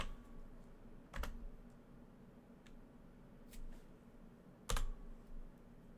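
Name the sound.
typing on a computer keyboard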